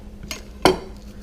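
Garlic cloves smashed with a flat knife blade on a cutting board while making chicken adobo: two sharp knocks, a lighter one and then a louder thud, close and alone.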